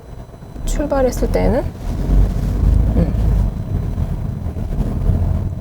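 Low, steady cabin rumble inside a stationary Peugeot 408 with a downsized 1.2 turbo engine idling, heard under someone speaking Korean.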